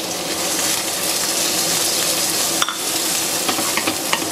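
Onion and garlic sauteing in hot oil for a spicy chicken curry, a steady close broadband sizzle with clinks and scrapes of stirring breaking through near the end, no voices.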